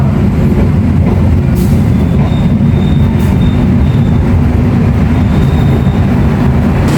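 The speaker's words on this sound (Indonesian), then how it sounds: "Sesaat lagi kereta api Serayu akan tiba di stasiun Bekasi." The Serayu passenger train rolls into Bekasi station at night, a loud, continuous rumble of wheels and carriages with faint squeals and brief higher rattles over the steady roar.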